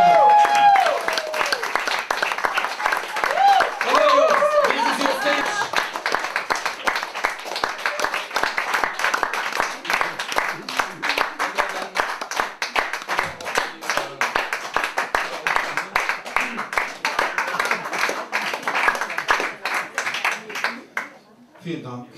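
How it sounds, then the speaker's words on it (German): A live audience greets a performer from Klagenfurt with warm, sustained applause, dense clapping with some cheering that carries on steadily for about twenty seconds before thinning out and fading at the end. "Vielen Dank für den warmen Applaus."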